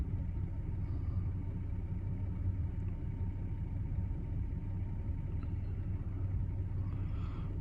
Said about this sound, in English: Still driving, looking around.